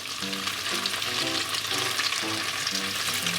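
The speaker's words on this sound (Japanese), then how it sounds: "今お豆腐焼いてるんですけど" Tofu steak fries in a pan with a steady, close sizzle and crackle that lasts throughout, over soft background music.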